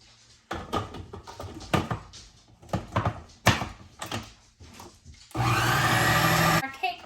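Amazon Kitchen 12-cup food processor and blender combo blending batter: a steady, loud motor whir runs for about a second near the end, preceded by clunks and handling knocks of the jar on its base.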